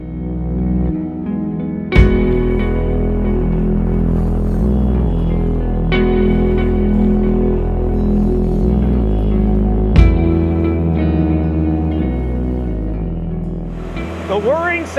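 Loud, constant mechanical whirring and humming from 1,800 bitcoin mining servers fills the space, with a steady low throb and occasional shifts in tone, and no voices.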